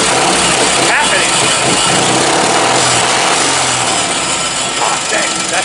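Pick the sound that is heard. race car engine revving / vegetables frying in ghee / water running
race car engine revving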